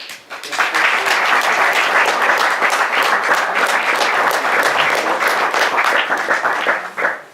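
Sustained applause from a large audience at an archaeology lecture, loud and steady for several seconds before tapering off at the end.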